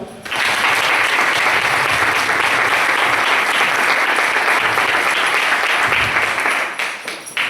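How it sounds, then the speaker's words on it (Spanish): Sustained audience applause welcoming a lecturer at a talk on the iconography of saints, loud and dense clapping from a large crowd filling the whole span before tapering at the end. "Un fuerte aplauso"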